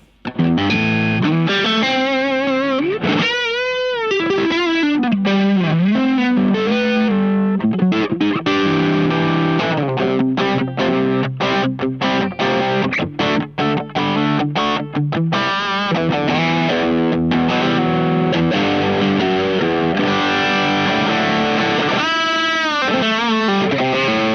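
Electric guitar distortion from an IK Multimedia X-Drive overdrive with compression switched on: a dense, heavily saturated, evenly leveled tone through a long continuous passage of riffs and sustained chords, loud with no talking.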